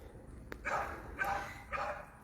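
A puppy barks in three short, high yips spaced through a quiet room, each bark fairly faint and ending quickly, with no talk.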